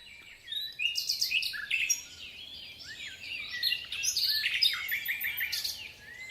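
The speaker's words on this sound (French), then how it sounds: "le rossignol philomène égrène un répertoire étonnamment varié et agréable" A common nightingale sings in an urban park by a lake, giving varied, rapid phrases of whistles, trills and chirps in bursts. The song is clear and fairly close over faint background hum.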